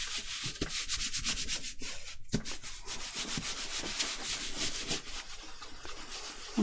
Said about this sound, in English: give that a good rub down